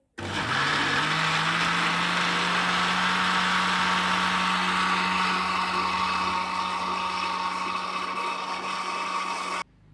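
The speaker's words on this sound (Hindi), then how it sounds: "अब इसे ग्राइंड कर लेंगे।" A blender grinds strawberries, sugar and milk into a milkshake, a loud steady motor whir running continuously for nearly ten seconds before cutting off abruptly.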